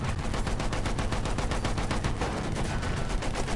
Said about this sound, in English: Oh my god, we're getting shot at already.